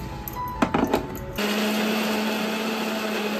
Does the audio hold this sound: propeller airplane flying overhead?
no